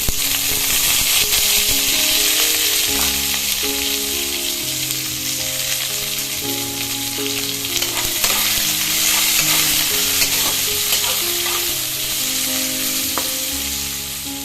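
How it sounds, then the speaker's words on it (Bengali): Chopped onions fry with whole cumin seeds in hot oil, a loud, steady sizzle running throughout while a spatula stirs and scrapes the pan at intervals. "পেঁয়াজটাকে লাল লাল করে ভেজে নেব"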